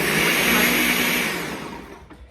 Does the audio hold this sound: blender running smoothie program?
yes